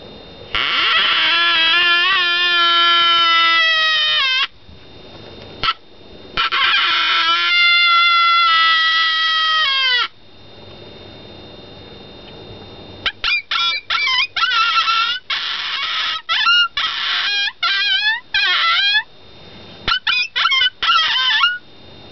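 Horn howler predator call blown as a distress call, first with long, loud wavering wails, then a run of rapid, choppy cries in short bursts, close and alone.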